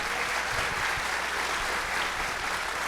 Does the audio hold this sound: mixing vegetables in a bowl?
no